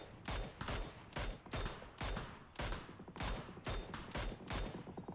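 Rapid volleys of gunfire ring out in the PUBG battle royale game, roughly a dozen sharp close shots in an uneven rhythm, each with a short echoing tail, and no talk over them.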